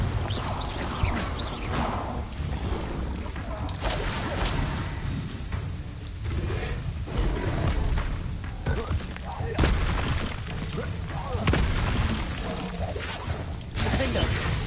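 Confringo spell blasts in the video game Hogwarts Legacy, a dense run of loud crashing, shattering explosions and thuds one after another, with a voice speaking intermittently underneath.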